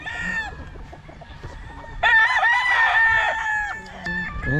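Roosters and hens on a gamefowl farm in the Philippines, loud close crowing with overlapping clucks and calls, some faint background chatter beneath.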